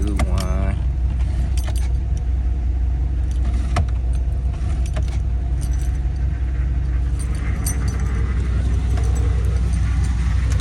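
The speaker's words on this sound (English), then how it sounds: "Banging through some gears real quick." An automatic shifter in a car with transmission trouble is moved through reverse, neutral, drive, 3, 2 and 1 over a steady idling engine, with clunks and creaks from the mechanism scattered through the passage.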